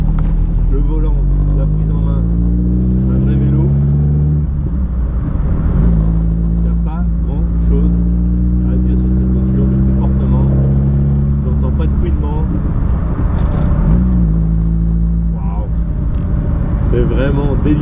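A 2014 Morgan Plus 4 with a Mazda five-speed gearbox drives steadily with a loud, close engine drone. The pitch shifts as it changes gear around the middle, and someone speaks over the engine throughout.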